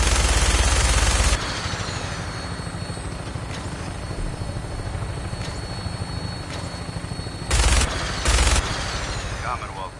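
Helicopter rotor drone runs throughout Fallout 4 flight over the Commonwealth, with loud bursts of machine-gun fire at the start and two short volleys near the end.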